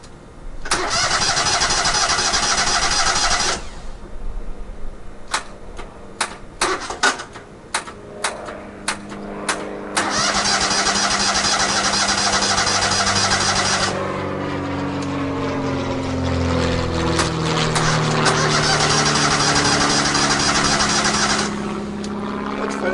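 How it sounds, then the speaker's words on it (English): A Hustler Super Z mower engine cranks and fires up inside a shop, with a long loud stretch of cranking, a few sharp clicks, then the engine catching and running steadily near and loud. "She fired right up inside the shop just like that."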